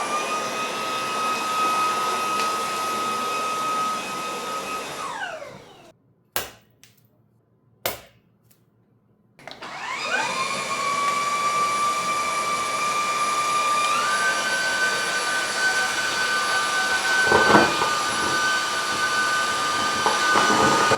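A Silvercrest SHA 125 A1 cordless hard floor cleaner runs with a steady motor whine that winds down, stops briefly amid a couple of clicks, then starts up again and holds a constant, fairly loud drone.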